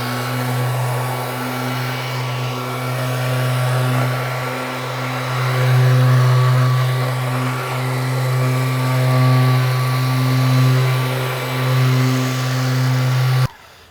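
A dual action polisher on slow speed spreads ceramic coating across a car door, a steady close electric motor hum with a slight wavering pitch that runs unbroken for about thirteen seconds before cutting off.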